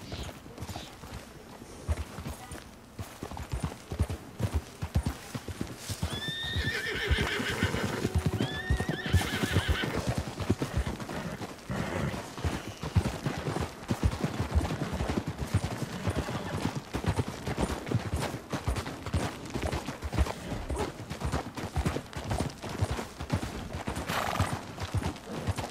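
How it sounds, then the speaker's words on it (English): Galloping horse hooves clip-clop in a fast, continuous rhythm in the Red Dead Redemption 2 video game, with a couple of loud horse whinnies partway through and scattered gunfire cracks mixed in. "That's another horse."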